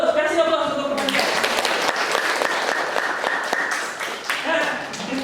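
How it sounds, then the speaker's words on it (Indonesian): Classroom applause for classmates during a school lesson, a burst of many hands clapping that starts abruptly and carries on steadily for several seconds, with voices murmuring at the start and end. "terus kasih aplaus untuk teman-teman"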